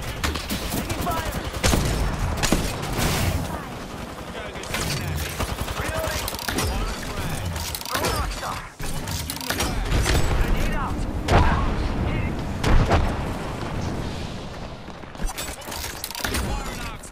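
Sustained gunfire in Apex Legends rattles almost without pause in dense, loud bursts and booms, with radio-style voices talking over the shooting.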